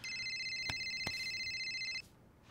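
A mobile phone ringtone chimes loudly and steadily for about two seconds on a film set, with two sharp knocks during the ring, then cuts off abruptly into quiet room tone.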